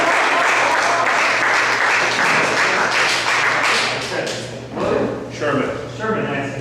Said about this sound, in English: Would you give him a round of applause as he joins me up here on stage?